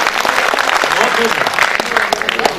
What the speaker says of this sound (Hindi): इस्तकबाल कीजिए नदीम साहब।